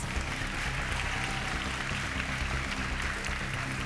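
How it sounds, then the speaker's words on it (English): A pageant audience at the Miss Virginia Volunteer 2023 finals claps in a dense, continuous round of applause, even and sustained throughout. "Everybody give him a round of applause."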